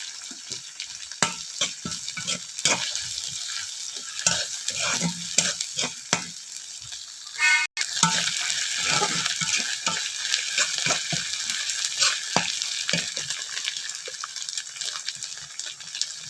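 Dried chapa shutki fish fries with onion and garlic in a pan, a close, busy sizzle with frequent stirring scrapes and clicks that carries on steadily, broken by one brief gap.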